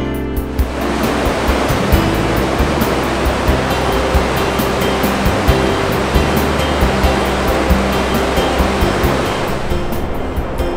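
Roaring water at Niagara Falls' American Falls in winter, a dense, steady wash of falling water that fills the whole clip, loud and close with no voices.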